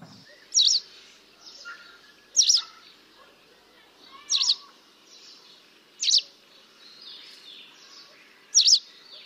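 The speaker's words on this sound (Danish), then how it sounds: "dens kald består af en række enkelte, kvidrende toner, og det lyder cirka sådan her" A wagtail gives a series of single twittering call notes, five clear, evenly spaced chirps about two seconds apart, fairly close over a quiet background.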